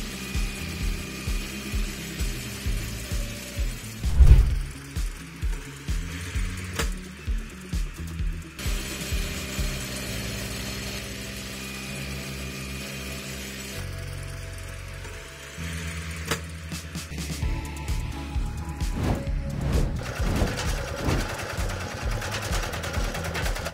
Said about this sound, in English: This mini machine is used to collect and pack wheat,